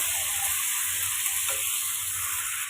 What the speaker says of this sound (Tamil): இதை வதக்கி விட்டு எடுத்துக்கோங்க ஒரு ரெண்டு நிமிஷம்